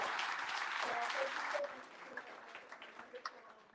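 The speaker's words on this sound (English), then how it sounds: "Please, let's give Congresswoman Rashida Tlaib a big round of applause." An evening crowd at a Palestine community center fundraiser applauds Congresswoman Rashida Tlaib with a sustained burst of clapping that tapers into scattered individual claps, with voices heard alongside.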